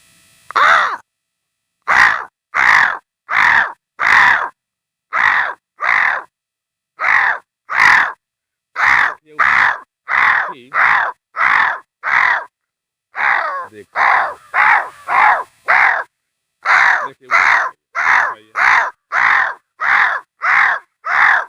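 A voice repeatedly imitates harsh crow caws, a long run of short loud calls in quick rhythmic bursts with brief pauses.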